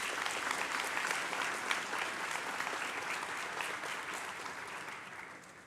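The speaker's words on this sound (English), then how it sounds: "Please join me in one more round of applause for all of our county award winners." An audience at a graduation ceremony gives a sustained round of applause, a steady wash of many hands clapping that heard from a distance slowly tapers off.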